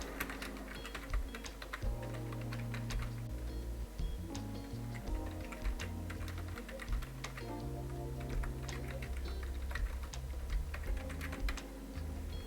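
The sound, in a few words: typing a heading on a computer keyboard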